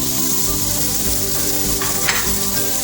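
Onion goes into hot oil with spices and turmeric for kadhi pakora, giving a loud, steady sizzle throughout with a few brief clinks of a utensil, no voices.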